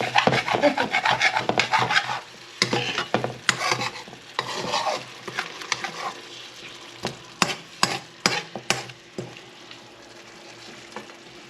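Adobong sitaw, green beans in a little broth, being stirred and mixed in a pan with a utensil, giving repeated close scraping and rubbing strokes in an irregular rhythm that grow sparser toward the end.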